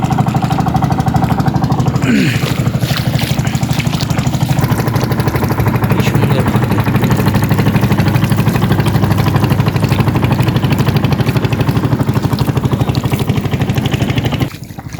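A fishermen's boat engine chugs steadily and loudly in fog as the boat heads out to fish on a river. The rapid, even thumping runs unbroken throughout and cuts off near the end.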